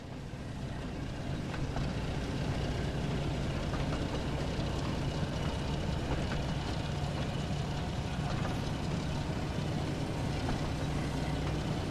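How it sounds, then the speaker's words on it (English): Passenger train running on rails in a Thomas & Friends scene, a continuous dense rumbling roll with steady mechanical clatter, loud and unbroken throughout. "Then you will have pulled your first passenger train."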